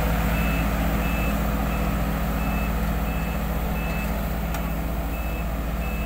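A Sakai SW800 road roller at a road paving site gives steady, evenly spaced reversing beeps over a loud, constant engine drone.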